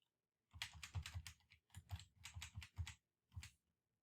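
Close-up clatter of fingers typing on a computer keyboard in short bursts of rapid keystrokes, separated by brief pauses in an otherwise quiet room.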